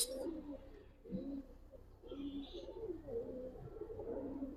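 Silver Giribaz pigeons coo softly in low, rolling murmurs, several overlapping phrases repeating close by at a quiet level, with faint background noise.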